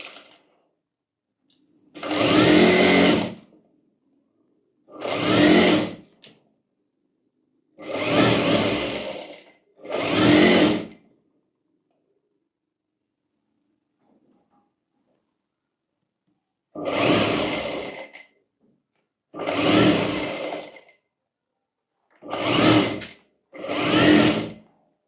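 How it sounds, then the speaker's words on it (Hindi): A sewing machine stitches a twice-folded blouse edge in a series of short, separate bursts, each a couple of seconds long and separated by quiet pauses, with the motor whirring steadily during each run. "इसको 2 फोल्ड कर कर पहले यहाँ पर सिलाई कर लेनी है"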